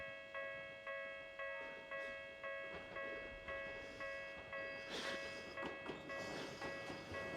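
A train passing in the video game The Silver Case: a steady electronic horn-like drone with evenly spaced rhythmic clacks pulsing about every half second, growing busier and noisier toward the end, quiet and without talk.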